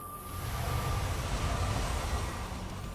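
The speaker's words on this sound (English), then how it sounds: "A train is approaching through a tunnel in the northwest." A train in the StarCraft 2 video game approaches through a tunnel, giving a steady, loud mechanical rumble with a faint high tone running through it for the whole stretch, and no voices.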